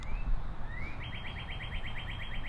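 A single bird chirps steadily, giving a rapid series of short, bright, repeated notes that follow a rising whistle, fairly close and clear above low background rumble.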